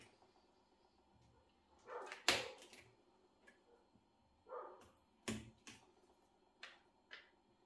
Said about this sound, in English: I don't know whose dogs they are barking.